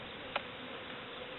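Honeybees at a beehive buzz in a steady, continuous drone, close and even, with one brief sharper buzz as a bee passes near, and no voices.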